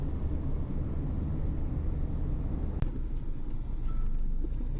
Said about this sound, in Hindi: ये जो ट्रैफिक जा रही है ये सारी एयरपोर्ट की ट्रैफिक है।